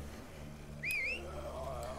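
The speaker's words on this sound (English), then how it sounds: "That's way too loud a whistle" A loud whistle in The Walking Dead: A New Frontier video game, a single rising and wavering whistle lasting under a second over a quiet low hum.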